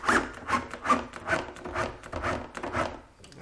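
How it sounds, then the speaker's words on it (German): A hand-cut wooden tool cabinet in a workshop takes a part screwed on, with steady rhythmic rasping and rubbing strokes about twice a second, close and clear with no voices. "Jetzt werde ich das hier anschrauben."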